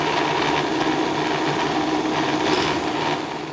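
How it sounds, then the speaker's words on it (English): A kitchen blender runs continuously while blending juice, a loud steady motor whir with a rattling churn throughout and no talking. "The blender's trying to run away!"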